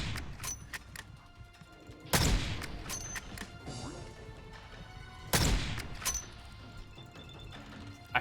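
Katt-AMR anti-materiel rifle firing in Fallout 4: two heavy, booming shots spaced a few seconds apart, each with a long rumbling tail, separated by quieter clicks and mechanical reload sounds.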